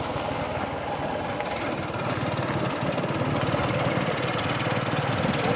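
A motorbike engine idles steadily and close by with an even, continuous mid-low chug while being parked at a busy hillside temple gathering.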